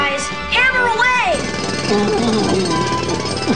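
Cartoon jackhammer pounding in a rapid, loud, steady rattle, with excited voices and swooping vocal sounds layered over the hammering.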